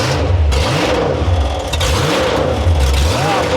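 A 2,000 horsepower Toyota Hilux built for burnouts roars loud and close, its engine revving in rising and falling surges over a constant heavy rumble, with no voices breaking through.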